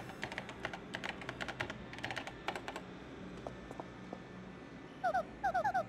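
Rapid keyboard typing clicks in the Paper Mario: The Thousand-Year Door game, irregular bursts of keystrokes over a soft background, followed by a few short chirpy game tones near the end.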